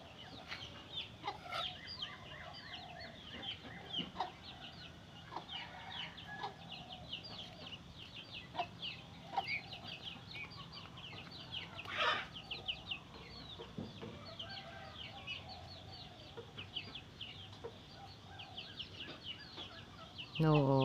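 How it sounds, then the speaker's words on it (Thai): Bobtailed chicken clucking and calling in a farmyard, repeated short bursts scattered through a busy outdoor background with a brief louder flurry midway. "ไก่หางกุดโน"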